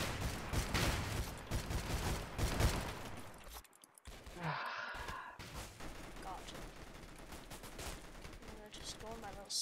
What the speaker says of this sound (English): I'm off in the distance, and I hear people shooting at some plant